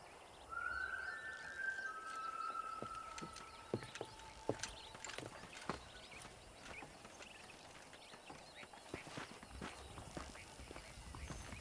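Horse hooves clip-clop in a steady trotting rhythm in the Red Dead Redemption video game, faint and continuous, with a brief high whinny near the start.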